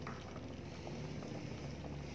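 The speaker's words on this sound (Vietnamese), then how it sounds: "Các bạn tiếp tục ninh cho nồi cháo chúng ta nhừ dưới lửa nhỏ nha các bạn." A pot of carp and mung bean porridge simmers over low heat, giving a steady, soft bubbling and low burbling that carries on evenly throughout, with no voices.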